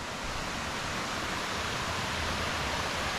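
A steady, dense roar of rushing water from Bang Pae Waterfall flowing over rocks, constant and enveloping with no pauses.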